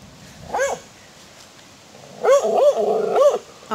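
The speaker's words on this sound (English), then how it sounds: "What is she barking at?" A female pit bull barks once, then after a pause lets out three quick barks in a row, moderately close, with no talking.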